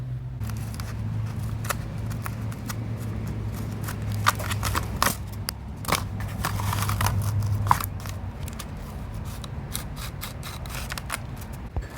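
Scissors cutting cardboard into brackets, a quiet run of crisp snips and scraping cuts with a low hum in the background and no talk.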